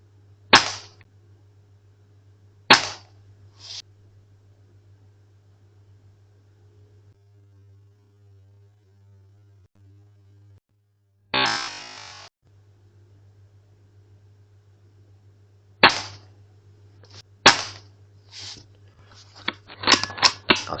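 Air gun shots fired one at a time through a single magazine at a small outdoor DIY range, sharp isolated cracks spaced seconds apart at first, then coming faster in a cluster near the end, over a steady low hum.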